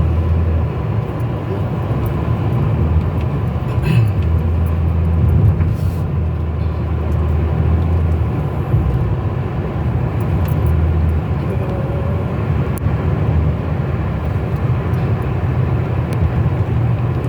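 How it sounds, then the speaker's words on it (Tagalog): Continuous rush of car traffic on a road in Saudi Arabia, a steady broad roar of passing vehicles with faint voices in the background. "Yung rush ng kotse."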